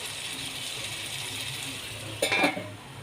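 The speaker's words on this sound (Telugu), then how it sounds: "ఇవి కాస్త మగ్గేదాకా మనం లిడ్ పెడదామండి." A metal lid clinks down onto a cooking pot of tomatoes for kadai chicken biryani, one brief close rattle over a steady background hiss, no talking.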